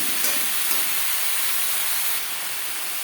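Papaya, pointed gourd and other mixed vegetables sizzling in a pan for a vegetarian dish, a steady loud hiss that eases slightly near the end.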